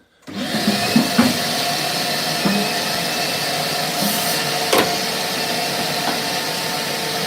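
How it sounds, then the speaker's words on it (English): A vacuum cleaner switches on and runs steadily, up close, as it picks up dust and debris while the 66-year-old interior of a camper is stripped out; a few knocks and clatters sound over the constant whine. "Okay, noise, vacuum noise."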